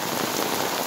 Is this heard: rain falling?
yes